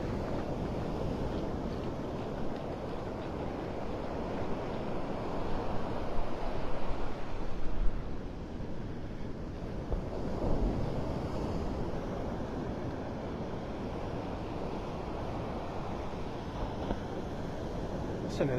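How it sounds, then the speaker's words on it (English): High-tide surf at Vanderbilt Beach, North Naples, Florida during Tropical Storm Debby, a dense rushing roar of breaking waves with gusting wind buffeting the microphone, swelling around the middle of the stretch. "Listen to those waves."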